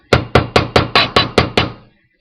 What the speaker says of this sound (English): I'm going to give that a little bit of a hammer.